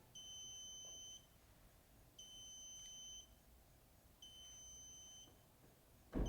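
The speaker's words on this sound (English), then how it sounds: "the Magic Closer will beep, alerting that you have a minute before the door closes" A Magic Closer automatic garage door closer sounds its warning, three evenly spaced, roughly one-second electronic beeps, fairly faint against a quiet room, with a brief knock at the very end.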